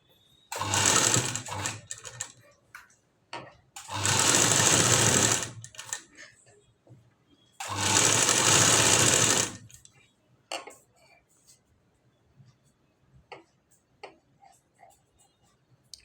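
A sewing machine runs in three loud bursts of about two seconds each while hooks and buttonholes are stitched, with quiet clicks and handling noises filling the pauses between runs.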